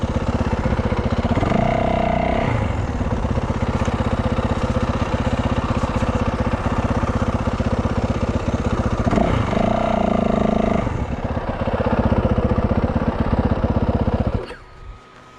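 A Yamaha WR450 dirt bike idles close by with a steady, chugging single-cylinder putter that holds for a long stretch, then shuts off near the end.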